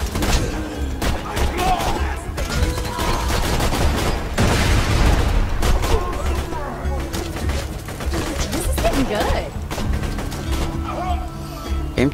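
Rapid rifle gunfire in the co-op shooter Borderlands 2, with dense bursts of shots, crashes and impacts running almost continuously at high volume over game music and clutter, with voices talking over it.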